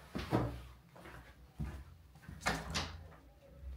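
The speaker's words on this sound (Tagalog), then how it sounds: "May kumakatok." Knocking on a hotel room door heard from inside the room: two separate bursts of dull, close raps with a pause between them, fairly loud against a quiet background.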